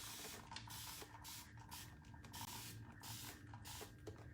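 Soft, repeated hissing bursts of water sprayed from a spray bottle onto a paint brush during a faux stone sea-spray texture finish, several short pulses with brief gaps, quiet and close.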